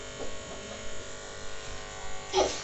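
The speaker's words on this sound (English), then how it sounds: "Are you shaving my ears?" Electric clippers shaving a girl's head at home, with a close, continuous buzzing hum. A voice and an adult's voice break in briefly over the buzz.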